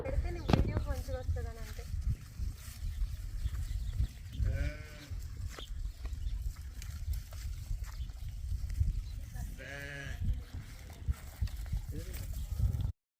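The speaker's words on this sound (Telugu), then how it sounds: "ఇక్కడైతే మేకలు కూడా ఉన్నాయి" Farm goats crowd in for grass, bleating several times in wavering calls over a steady backdrop of shuffling and ambient noise, with bursts around the start, middle and end; people talk nearby.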